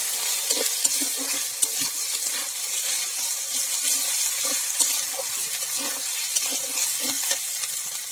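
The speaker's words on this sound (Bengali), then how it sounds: "আদা রসুনটা ভালো মতো ভাজা ভাজা করে নেব।" Ginger and garlic paste fries in a pan while being stirred, a soft steady sizzle with repeated light scraping strokes of the spoon, close and fairly quiet, with no talking.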